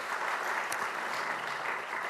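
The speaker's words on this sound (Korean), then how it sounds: "네, 큰 박수 한번 부탁드립니다." An audience at a Korean policy forum on popular culture and the arts gives steady, even applause, a continuous wash of clapping with no break.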